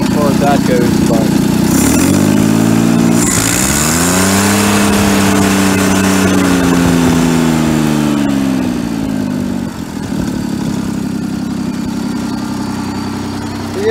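A John Deere 322 lawn tractor engine runs close by with a steady loud drone whose pitch dips and rises, with faint talk mixed in.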